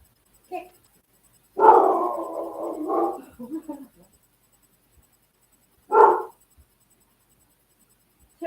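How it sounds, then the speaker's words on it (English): A dog at home gives a drawn-out howling bark, then a single short bark a few seconds later, close and clear in an otherwise quiet room. "I'm trying to teach them that if somebody knocks, they bark."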